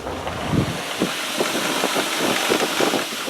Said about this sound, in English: So that's what I'm using as a buffer.